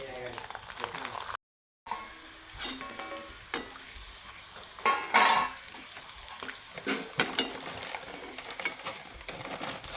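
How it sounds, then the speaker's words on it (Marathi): Coloured papads deep-fry in hot oil for a bhaji meal, a close crackling sizzle with stirring clinks and scrapes, one brief dropout, and a pause in the sound early on. "मी थोडेसे अगोदर पापड आहेत कलरचे पापड ते तळून घेते"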